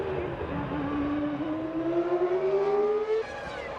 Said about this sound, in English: Fisichella races down the straight